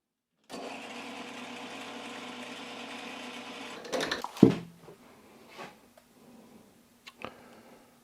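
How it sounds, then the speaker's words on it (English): A lathe or similar machine tool chamfering a stainless steel countersunk bolt for a throttle mount, running as a steady loud whir for several seconds, then winding down with a few sharp clanks and knocks, no voices. "So let's chamfer this one here."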